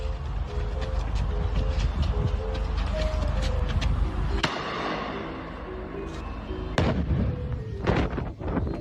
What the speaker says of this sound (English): Yo, that's a firework, but that's a freaking bomb